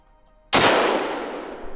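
A single loud 9.3x74R rifle shot in theHunter: Call of the Wild, cracking sharply and then ringing out in a long, slowly fading echo, with no talking.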